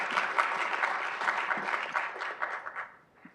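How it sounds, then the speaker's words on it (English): Applause fills a hall at a research conference, a moderately loud round of clapping that holds for a few seconds before thinning into scattered claps and fading out. "A round of applause."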